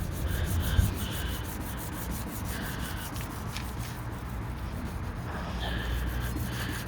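Steady wet sanding on a BMW E87 headlight lens, strokes now running vertically with lubricant, a continuous close rubbing hiss with faint rhythmic pulses and no talk.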